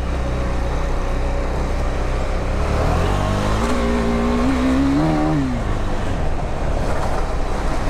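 A KTM Duke 390 BS6 motorcycle accelerates on a wet, foggy road where the tyre slips. The close engine note climbs in pitch, dips and rises again over steady wind and road noise.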